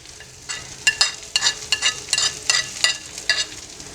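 Shredded cabbage and capsicum being stirred in a hot frying pan, a spoon scraping in a steady rhythm of about two strokes per second over a soft sizzle, close up with no talking.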